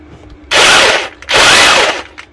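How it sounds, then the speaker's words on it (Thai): A cordless rotary hammer drill (2-26 STR) running in chisel mode, with no bit rotation, hammering at about 850 per minute: two loud, close bursts of rapid, harsh percussive chatter, each lasting roughly half a second to a second, with a short pause between them. "ส่วนอันสุดท้ายรูปค้อนนะครับอันนี้จะเป็นระบบสกัดนะครับ"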